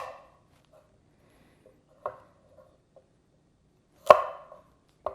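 A Dalstrong 8.5-inch kiritsuke knife chops through a carrot on a cutting board, giving a few sharp, isolated knocks spaced a second or two apart, one especially loud, in an otherwise quiet kitchen.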